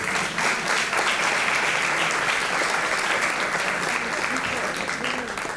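Audience applause for Patsy Irurzun at a storytelling workshop talk: steady, dense clapping from a sizable crowd fills the room at constant loudness throughout, with no pauses or rhythm.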